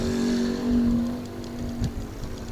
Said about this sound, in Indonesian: Jadi di sini tuh banyak lalu lalang kendaraan ya.